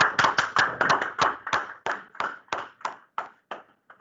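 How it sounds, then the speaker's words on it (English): Hand clapping at a Quezon City Medical Society regional meeting: a dozen sharp, distinct claps in a steady rhythm that slows and fades toward the end, with no talk. "Let's give them a big round of applause."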